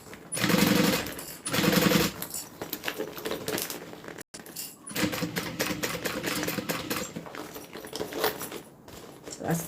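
A sewing machine top-stitching a modified crossbody bag, its rapid needle chatter running in steady bursts with a brief pause, close and loud.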